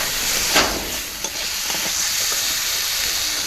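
Spices and cut potatoes are sautéed in a pan on a stove, making a steady close sizzle with a few soft scrapes and clinks as they are stirred.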